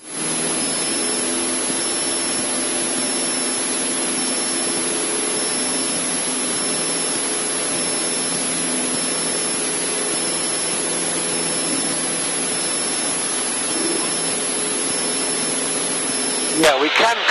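A Cessna 152 light aircraft engine drones loud and unbroken at climb power during a flight lesson, a steady roaring hum that fills the cabin throughout, with a brief rustle at the very end.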